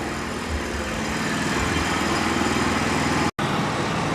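A sawmill engine drones steadily at close range while cutting boards from a wet log about 12 inches across, holding an unbroken low rumble with one brief cutout near the end.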